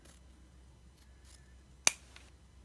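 One sharp snip of scissors cutting a coaster in half, a single crisp close cut against near silence with a couple of faint rustles around it.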